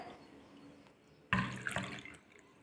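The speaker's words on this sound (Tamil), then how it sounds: "இதை வந்து நல்லா கழுவிக்கலாம்" Tap water runs over sago pearls being rinsed in a bowl for sabudana upma, a faint steady trickle that suddenly swells into a louder splashing rush partway through, then settles back down.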